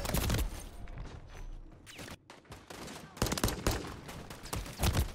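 Gunfire in a Call of Duty match, sharp loud shots and bursts scattered across the clip with brief gaps, some rapid clusters layered with other game noise and no talking.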